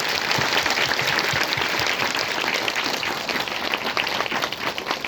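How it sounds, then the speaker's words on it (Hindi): A crowd at a healing and deliverance prayer meeting in Odisha claps continuously in a dense, steady patter that holds for the whole stretch, fairly close and lively. "बैठ जाओ, ताली बजाओ यीशु मसीह के नाम में।"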